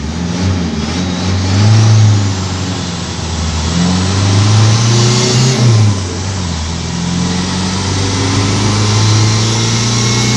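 A Ford Fairlane 500's engine revs continuously while the car drives, a steady loud drone that swells and eases as the throttle rises and falls, with no talking.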